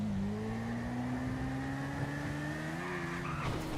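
A motorcycle engine in a video game revs steadily during a wheelie, a sustained droning whine that slowly rises in pitch, with a faint tire squeal near the end.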